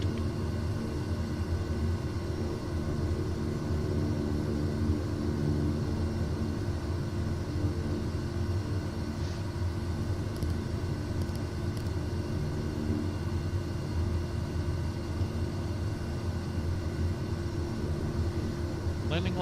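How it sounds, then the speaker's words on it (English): A twin-engine propeller plane taxis in Microsoft Flight Simulator 2024, its engines holding a steady, even drone with no breaks from start to finish. "A lot of those twin engine planes like this one here."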